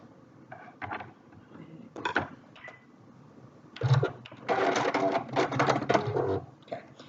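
A sewing machine stitches a fabric medical mask in short stop-start bursts, with a longer rapid run in the second half, accompanied by fabric handling and clicks at close range.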